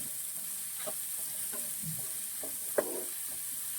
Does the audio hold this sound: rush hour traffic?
no